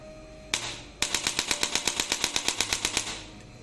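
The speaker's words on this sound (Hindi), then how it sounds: "तो ये था एक छोटा सा डेमो स्पाइन एडजस्टर गन का।" An electric chiropractic spine adjuster gun, an 1100N digital correction device, runs at a higher power setting, firing a fast, even train of sharp mechanical clicks for about two seconds after a couple of single taps, alone and fairly close.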